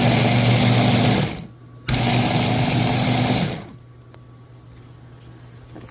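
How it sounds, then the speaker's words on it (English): A kitchen blender whirs through white bean chili ingredients, including spices and salt, in two loud steady bursts separated by a brief pause, then gives way to a quieter motor hum, with no talk. "And I'm going to blend that up."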